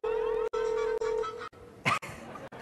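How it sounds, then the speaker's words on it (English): A phone rings with a steady electronic tone in three even bursts, then rustling and a brief clatter follow. "nice ringtone"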